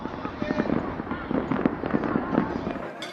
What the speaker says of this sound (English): The fireworks are fun because they are colorful and loud.